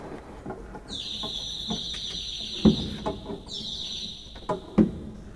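Nightingale stop of the Renaissance pipe organ in the Basilica of St. Andrew in Olkusz, giving bright high warbling trills in two bursts over a low background, with a couple of soft knocks.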